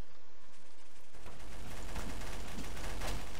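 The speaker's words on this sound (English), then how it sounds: "Is he choosing the minigun?" Minigun fire in Garry's Mod Deathrun: after a quiet second, a dense continuous rattle of rapid shots sets in and keeps going loudly to the end.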